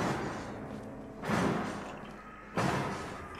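In the horror video game Outlast, a door slams shut with two heavy booming thuds about a second apart, each fading into a dark rumbling ambience, with no talking.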